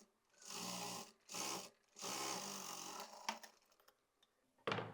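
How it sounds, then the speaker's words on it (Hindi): A sewing machine stitches fabric while a winter daily-wear garment is made, running in three short close bursts with brief pauses, then a few clicks and a final quick burst. "टर्न करने के बाद यहाँ पर सिलाई लगाएंगे मार्जिन को अटैच करने की"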